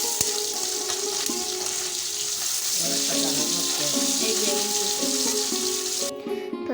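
Fish frying in a pan gives a steady, dense hiss throughout, with faint tonal hum and clatter in the background and a low voice murmuring under it.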